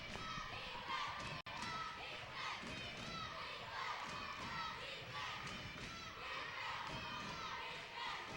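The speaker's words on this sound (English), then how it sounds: "Crowd chanting defense for Hamilton now." A crowd chants "defense" for the home side at a girls high school basketball game, a dense, continuous roar of many voices echoing through the gym, with a single thud partway through.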